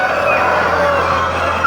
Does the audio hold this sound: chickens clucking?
yes